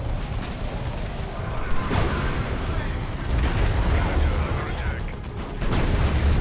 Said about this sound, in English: they're shooting at the Terminators